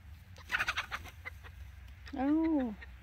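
Chickens cluck in short bursts close by on a farm with alpacas, followed by a longer drawn-out call near the end; a person's voice is faintly present.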